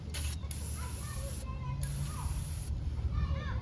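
Three sharp hissing bursts from an aerosol can of penetrating oil during drum brake work on a Toyota Camry, each lasting about a second, with a quiet voice murmuring in the background.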